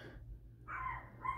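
Two quiet, muffled dog barks from a distance, spaced about half a second apart, over a steady low hum.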